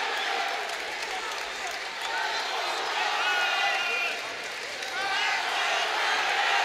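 An arena crowd at a Reality Fighting mixed martial arts event, chanting as a dense, steady roar of many voices in rising and falling waves under close commentary talk.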